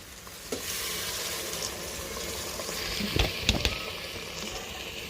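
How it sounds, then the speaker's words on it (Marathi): Hot water is poured into mutton masala frying in a pan for a Khandeshi mutton curry. A steady sizzle runs throughout, with a few sharper splashes and bursts near the middle, close and fairly quiet. "त्यामध्ये आता गरम पाणी घालूया"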